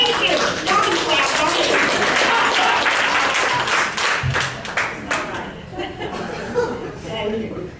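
An audience at a school board election debate claps, a dense, loud burst of applause mixed with chuckles and talk that gradually dies down into scattered claps and murmuring.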